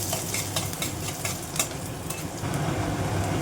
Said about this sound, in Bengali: পেঁয়াজ দিয়ে দিচ্ছি ফোড়ন পেঁয়াজটাকে একটু লাল করে ভেজে নেবো